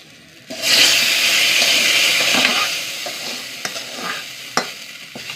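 Fried shallot tempering is poured into a fish curry and sizzles loudly in a close, sudden hiss that slowly settles into softer bubbling with a few small clinks.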